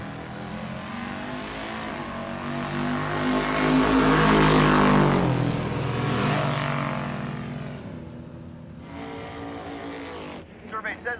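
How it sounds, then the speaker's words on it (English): A supercharged LS-swapped Volvo wagon with an LSA blower makes a drag-strip run, its engine roar swelling loudly to a peak and then fading away, with a voice talking over it. "Thorpe in the Volvo wagon. LS swapped with an LSA supercharger."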